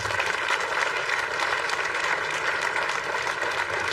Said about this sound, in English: You can give them a round of applause to these trainers.